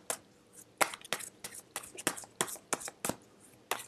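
Quick, crisp riffling of tarot cards being shuffled, a dozen sharp papery bursts in an uneven rhythm, close and fairly loud.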